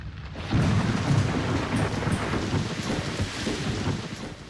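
Steady rain pours down with a broad hiss and a deep rumble beneath, continuous and fairly loud, with no voices.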